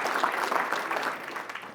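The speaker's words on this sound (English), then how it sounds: "round of applause." Brief burst of audience applause at a national conservative student conference, a fairly dense round of clapping that tapers slightly toward the end.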